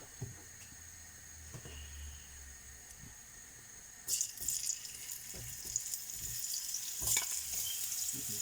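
Hot oil in a home kitchen pan, readied for frying prawns, hisses softly at first, then bursts into louder bright sizzling and crackling partway through, with occasional clatter of stirring and no talk.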